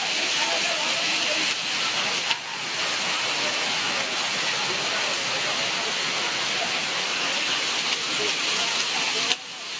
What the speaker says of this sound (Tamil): புரந்தர் தாலுகாவில் தொடர்ந்து 4 நாட்களாக பெய்த கனமழையால் கோயில் படிக்கட்டுகளில் மழைநீர் அருவி போல